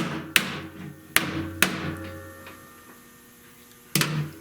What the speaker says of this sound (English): now I'm going to hammer this down